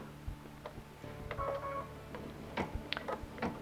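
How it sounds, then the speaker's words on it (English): A sewing machine stitching fabric for a quilted zippered bag: a steady, faint mechanical whir with light rhythmic ticks and clicks throughout, no talk. "I'm going to let the machine stitch the next step"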